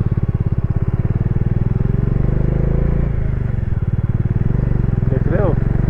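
A motorcycle engine thumps in a fast, steady pulse while riding up the mountain road from Leh toward Khardung La pass, loud and close, with a faint voice briefly near the end.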